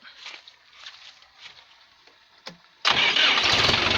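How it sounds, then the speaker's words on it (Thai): Champ MX6255 farm tractor engine cranking to life after a few quiet seconds of faint background noise, then settling into a loud, close, steady running rumble. "ให้ลองติดเครื่องดูครับ"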